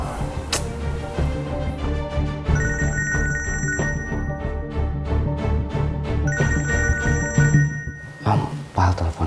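A phone ringtone chimes in a repeating melodic pattern over a dramatic musical score in an Indonesian TV drama scene, ringing for several seconds before cutting off.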